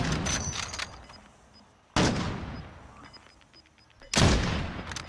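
Video game gunfire in three loud, sharp bursts spaced a couple of seconds apart, each cracking sharply and then fading away between shots.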